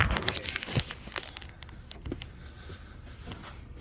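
Plastic handled and crinkled during a fuel filter replacement on a Cascadia truck's DD15 engine: close, dense crackling and rustling, loudest at first and then thinning into scattered crinkles, with no talking.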